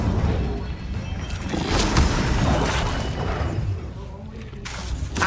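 Incendio fire spell cast in Hogwarts Legacy, a loud whooshing, crackling burst of flame with booming impacts, mixed with other spell effects and a voice speaking over it.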